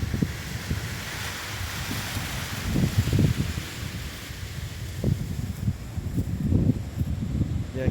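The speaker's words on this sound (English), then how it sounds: "Very windy day." Strong wind gusts across a small outdoor stadium on a blustery day, a steady broadband roar with low buffeting surges that rise and fall throughout, loud and close against the microphone.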